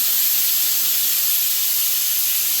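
A pressure cooker of dal and rice lets out a loud, steady hiss of escaping steam that holds constant without pause.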